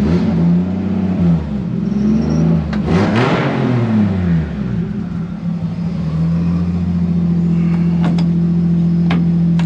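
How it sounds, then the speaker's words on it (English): A Nissan Silvia S14 with an RB25DET engine drives past, its loud engine rising and falling through revs before settling into a steady drone, heard close with no talking. "So yeah, we'll take it for another drive."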